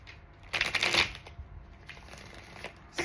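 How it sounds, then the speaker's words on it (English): Tarot cards being shuffled by hand, a close, crisp riffling burst followed by softer, quieter card flicks. "I'm gonna do two more shuffles"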